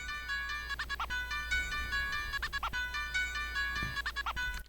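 Piano melody from a hard NY drill beat rings out alone, repeating bright notes with quick rhythmic flourishes, moderately loud with a low hum underneath and no voices.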